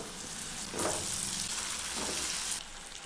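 Potatoes fry in hot oil with masala for an aloo palak sabji, a steady close sizzle that swells as the pieces are stirred, with soft scraping pulses and no talking.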